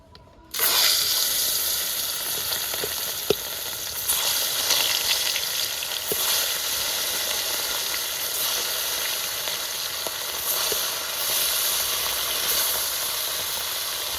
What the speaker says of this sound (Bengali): এখন আমি মাছগুলো এক এক করে ছেড়ে দেবো।